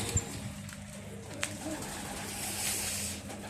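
Domestic pigeons, homing pigeons among them, coo softly in a loft amid steady background noise, with a couple of brief low coos near the start.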